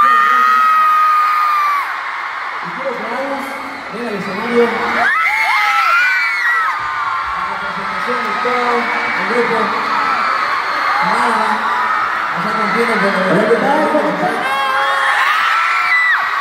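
Large concert audience at Movistar Arena cheering, whooping and yelling loudly and continuously through the whole stretch, with swelling shouts and high screams rising over a dense roar of voices.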